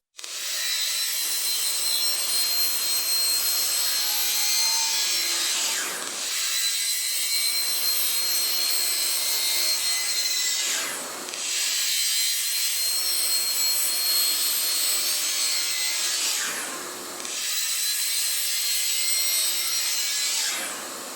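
A hand saw cuts through dust collection pipe in a woodworking shop, trimming it about 8 inches. Long, loud, continuous rasping strokes are broken by short pauses every few seconds.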